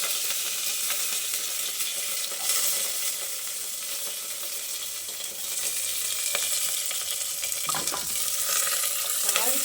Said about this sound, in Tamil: கடுகு வந்து நல்லா பொரிய விட்டுருங்க